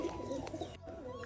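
Rajshahi pigeons cooing in a loft, soft low rolling coos repeating close by with steady background hum, no talking.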